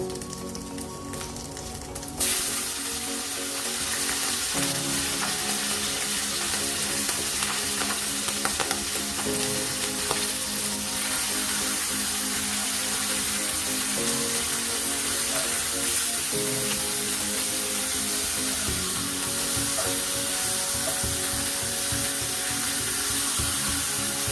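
Bacon hits a hot pan after a short quiet start, then a loud, steady close-up sizzle with crackling spatters and faint background music.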